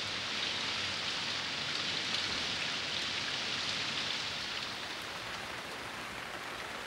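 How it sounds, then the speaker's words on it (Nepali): A light rain shower on a tropical island, a steady wash of falling drops hitting surfaces, even and close throughout and easing slightly toward the end, with no other sounds. "गर्मीले आलस तालस पारेको बेला यस्ता साना झरीले पनि ठूलो राहत दिन्छ।"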